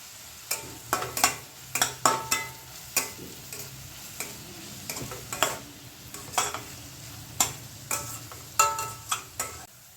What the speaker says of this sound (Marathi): आणि कांदा आपल्याला तेलामध्ये छान परतून घ्यायचा आहे.